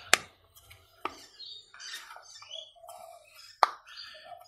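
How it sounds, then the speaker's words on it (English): Plastic teeth on a car fuel cap tether being bent off by hand, a few sharp distinct clicks spaced irregularly amid quiet handling rustle, close and crisp. "Can hear the clicks."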